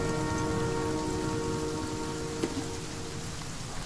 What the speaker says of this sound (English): At least one good thing comes out of the rain.